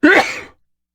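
A single sneeze bursts out close by during a board game session, a sharp loud onset that tails off within half a second, alone with no talk over it.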